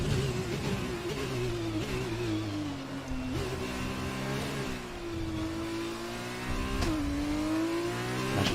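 An F2 2020 race car in the video game, wet-weather racing at Italy, its engine revving and dropping under throttle in smooth rising and falling sweeps, loud and close throughout with no talking.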